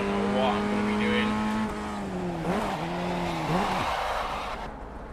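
A Formula Vee race car in the iRacing driving game hums with a loud, steady engine drone that dips and wavers through shifts, with brief tire squeals, before cutting off near the end.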